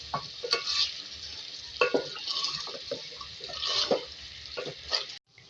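Yogurt being stir-fried into a beef and tomato masala in a pot, with a steady close sizzle and repeated stirring scrapes throughout, no talking.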